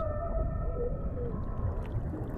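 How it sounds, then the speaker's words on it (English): South Pacific whale song: faint, drawn-out tonal wails and gliding notes beneath heavy low underwater noise, with no voices. "The song that Petty Point hears in the South Pacific is wondrous."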